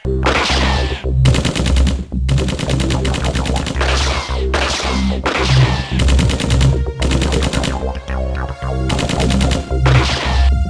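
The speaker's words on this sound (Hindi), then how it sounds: "पुलिस की गोलियां चलने लगी हैं।" Rapid bursts of gunfire crack repeatedly in loud volleys, with short gaps between the barrages throughout.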